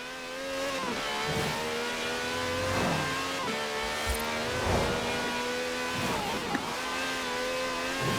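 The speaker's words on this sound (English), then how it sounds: "This has a V12 with over 750 horsepower, plus bucket seats." A V12 engine with over 750 horsepower in Forza Horizon 4 revs and accelerates loudly and close. Repeated rising tones climb through gears with brief dips at each shift, steady and continuous, with no voices over it.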